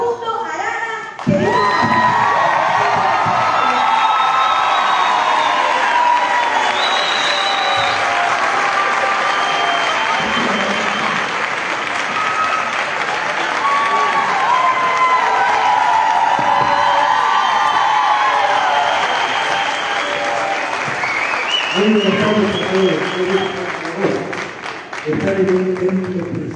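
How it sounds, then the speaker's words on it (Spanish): An audience at a photography and video congress breaks into loud sustained applause and cheering with whoops, a dense roar filling the room for over twenty seconds, with voices emerging near the end. "Les pido un fuerte, fuerte aplauso para el señor Facundo Arana"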